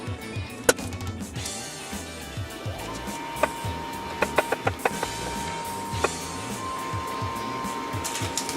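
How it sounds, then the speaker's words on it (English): Knife chopping small garlic cloves on a cutting board, a handful of sharp irregular taps clustered in the middle, fairly close and over a steady background hum. "chopping garlic like this. They're so small."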